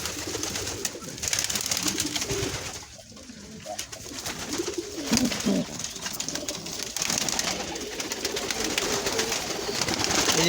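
A pigeon sitting on a clutch of three eggs gives repeated low, throaty coos, close and steady over a noisy, rustling background, with a faint voice now and then.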